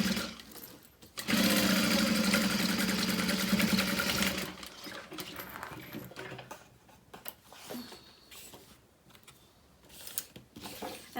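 A sewing machine runs steadily for about three seconds while top stitching the seam of a wristlet, then stops, followed by quieter handling and fabric rustling.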